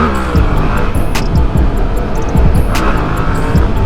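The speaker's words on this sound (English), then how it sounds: "Doing little burnouts and shit." A dirt bike with new stunt bars and clutch lever doing small burnouts: a loud, steady, close engine roar with rising revs and rough tire noise, no talking.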